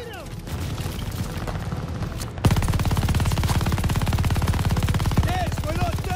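Gunfire in the Call of Duty video game: after a calmer opening, loud, sustained rapid automatic bursts break out and continue densely to the end, with voices mixed in.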